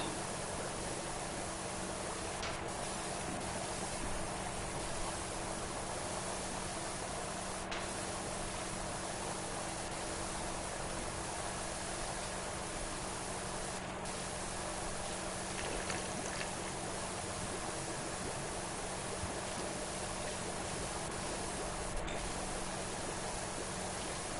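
A pressure washer sprays stone cleaner in Powerwash Simulator, a steady unbroken hiss of water jet that runs the whole time with only faint clicks, with no voices.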